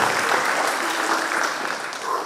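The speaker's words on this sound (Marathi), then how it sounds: "जोरदार टाळ्या होऊन जाऊ आमच्या स्वागतासाठी." An audience at a Diwali morning performance at the Purandar Kala Manch in Saswad claps to welcome the performers, a loud, dense and continuous round of applause with some voices in the crowd.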